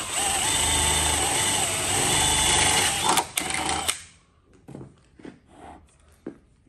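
A drill boring holes with a 9mm bit into a vehicle frame on a soft top conversion: a loud steady whirring motor for about four seconds, then it stops, leaving scattered clicks and handling knocks.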